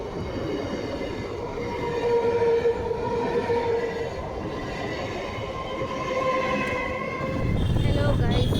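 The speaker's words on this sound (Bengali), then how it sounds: "এখানে ট্রেন গাড়ি যাবে" A train rolls past a railway crossing, its steady rumble and rattling wheels loud and close for several seconds with a sustained tonal whine, while voices talk faintly underneath.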